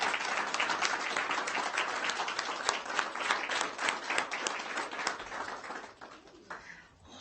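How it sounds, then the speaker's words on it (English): Applause at a school board meeting, a room of people clapping densely before the sound thins and fades away near the end. "So if all of us can just give them one last round of applause"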